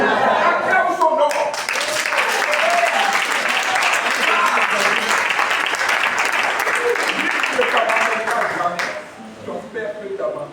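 Congregational applause at a Christian church service fills the space: steady, dense clapping from a large crowd, loud and sustained for about nine seconds before thinning out near the end, with a voice speaking over it.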